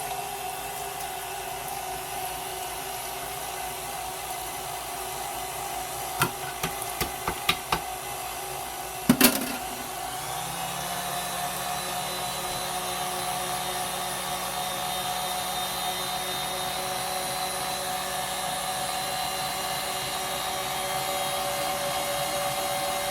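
An electric meat grinder works through fresh chicken for burgers with a steady whirring motor hum. A few sharp clicks and a clunk come midway, then the motor settles into a higher, smoother whine as it is turned all the way up.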